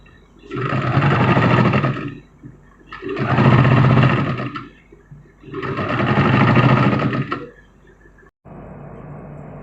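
An electric sewing machine stitches blouse fabric in three long, even runs of rapid whirring, each separated by a brief pause, and ends with a softer steady hum.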